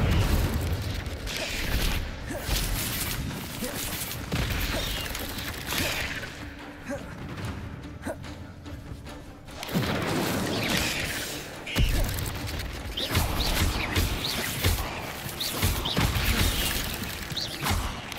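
An Incendio fire spell cast in Hogwarts Legacy produces repeated whooshing, booming fire bursts, fairly loud and dense, broken by a quieter stretch before the blasts return.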